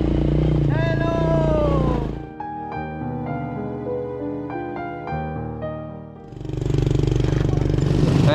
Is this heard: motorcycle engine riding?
yes